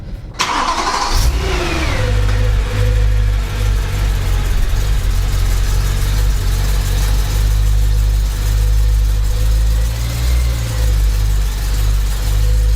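BMW E92 M3 engine fires up with a sharp start, then settles into a loud, steady, deep idle with slight fluctuations, close to the car and with no talking.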